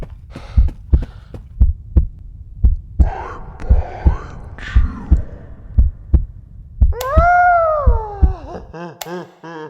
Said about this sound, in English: he's playing some running sounds. He's running, adds some breathing